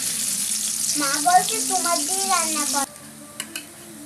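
Onions drop into hot oil in a pan and a soft hiss of frying follows. A voice talks over the first part, then the sizzle carries on more quietly with a couple of light clinks.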